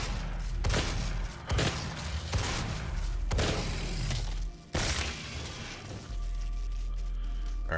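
Shotgun blasts in fast-paced video game combat, a series of heavy booming shots with shattering impacts spaced about a second apart, loud and close, followed by a quieter humming stretch.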